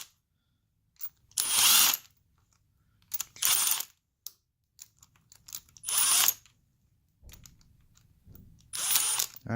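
Ratchet clicking in several separate bursts as fuel rail bolts come out of a twin turbo Nissan 300ZX engine, each run of rapid clicks close and fairly loud with quiet pauses between.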